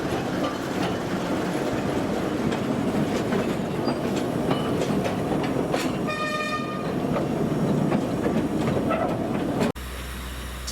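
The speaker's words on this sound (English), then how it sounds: "two diesel-hauled public service trains departed from the yard" Diesel-hauled trains on a 60cm narrow-gauge railway at Parc Chanteraines, Paris, rumble steadily past with rhythmic clickety-clack of wheels, a horn sounding midway, before the sound cuts abruptly near the end.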